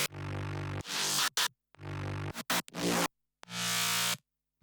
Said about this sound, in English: So you'll hear if I solo this bass group and mute the sub